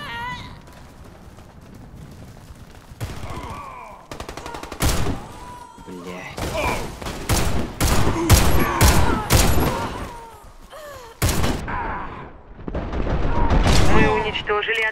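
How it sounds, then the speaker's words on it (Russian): Grenade explosions and gunfire in the video game Warface: rapid, loud bursts of shots and booms crowd together, with brief gaps between volleys and game voices faintly beneath. "Граната!"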